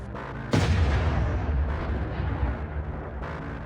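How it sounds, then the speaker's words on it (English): Ammunition inside an armored vehicle detonates in a massive explosive blast that hits suddenly and loudly, followed by a long rumbling roar with crackling bursts that slowly fade. "The ammunition detonates violently."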